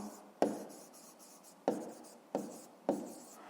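Pen writing by hand on paper while a fifth-grade math word problem about cherry jam jars is worked out: four distinct scratchy strokes, each a sharp onset fading into soft scraping, close and quiet with no talk.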